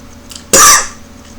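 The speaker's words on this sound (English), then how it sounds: "so you might get to see me cough here." A single harsh cough bursts out after a sip of spicy ginger ale, loud and close, lasting about a quarter second before trailing into quiet room tone.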